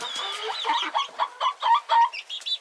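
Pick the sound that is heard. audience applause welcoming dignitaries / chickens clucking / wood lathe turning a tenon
chickens clucking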